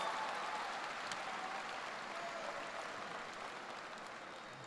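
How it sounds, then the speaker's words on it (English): A high school commencement audience claps, with a broad wash of applause that starts strong and slowly fades, heard at a distance and fairly faint. "Can we give that a round of applause?"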